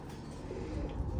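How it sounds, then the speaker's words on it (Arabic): Pigeons kept as hunting birds coo softly and low, a muffled, rumbling call over a faint background, fairly quiet. "هاي طيور الصيد اليوم"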